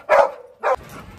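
A dog barks twice in quick succession, close and loud, with the second bark shorter, followed by faint background noise.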